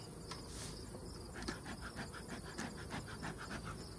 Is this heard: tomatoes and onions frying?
no